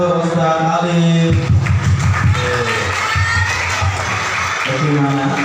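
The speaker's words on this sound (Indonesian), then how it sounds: "beri tepuk tangan untuk Ustaz Alif." Schoolchildren at an Islamic elementary school prayer training applaud and cheer together as a loud, sustained crowd. High voices shout over the clapping close by.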